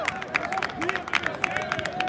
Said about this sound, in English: gets a lot of clapping in the dugout for his efforts